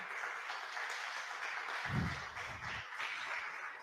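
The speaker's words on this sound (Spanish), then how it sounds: "¿Cuántos dan un aplauso a Cristo en esta mañana?" A church congregation applauds during a Spanish-language Sunday-morning sermon: a faint, steady wash of clapping that runs evenly through the whole stretch, with a couple of brief low thumps in the middle.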